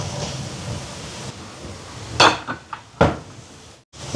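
A prawn mixture is stirred in a hot pan with coconut oil, with soft sizzling under a few sharp metallic clanks and scrapes of a utensil against the pan.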